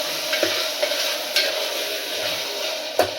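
Tomatoes for brinji rice sauté in a pan, giving a steady, close sizzle with a few light scraping stirs of a spoon.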